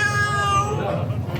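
A cat meows in an indoor hallway, apparently wanting to be let back inside; the cries are close and drawn out, with people talking over them throughout.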